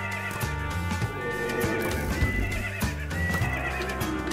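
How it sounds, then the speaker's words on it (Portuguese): Undead zombie horse in the Minecraft video game neighing and whinnying repeatedly, with clip-clop hooves and game sounds underneath, loud and close without any talk. "cara, só um cavalo morto-vivo"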